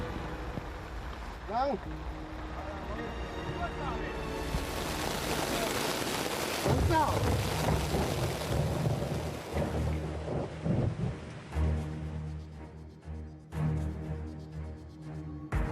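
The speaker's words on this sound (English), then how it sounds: "A sudden downpour strikes" Heavy rain roars in suddenly and keeps pouring in Taiwan, with rumbling thunder-like booms and voices talking underneath.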